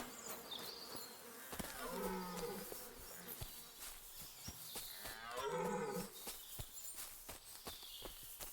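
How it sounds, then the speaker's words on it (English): Loud, drawn-out elk bellows rise and fall twice, harsh and strained, over a steady background of game ambience and clicks, from the video game Kingdom Come: Deliverance 2. "Elk just screaming."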